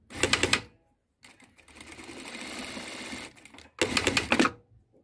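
A Brother S-6280A automatic straight-stitch industrial sewing machine runs in one steady two-second burst of rapid whirring stitches, close and clear, with a short loud mechanical clatter just before and after it.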